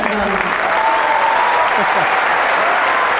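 A Wimbledon 2008 tennis crowd applauds and cheers for the underdog in Tanasugarn versus Venus Williams, a dense, steady roar of clapping filling the whole stretch, with a commentator's voice faintly underneath.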